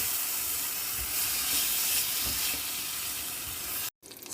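Shrimp fry in olive oil with chermoula in a hot pan, a steady close sizzle with crackling bursts that holds for about four seconds before a brief cut to silence, then the sizzle resumes.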